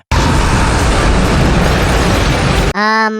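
Loud, sustained explosion effect set off by a magic circle in an anime, a dense roaring blast lasting over two seconds before cutting abruptly to a brief musical tone.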